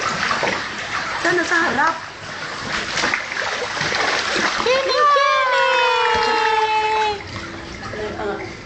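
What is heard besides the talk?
baby splashing and playing in water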